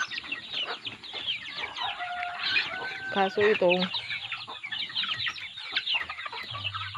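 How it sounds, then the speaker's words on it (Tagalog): Hens cluck and squabble in a farmyard as one hen fights the others, with agitated cackles and squawks, some nearby and loud, while a person talks briefly. "nangaaway kasi yung isang inahin dito"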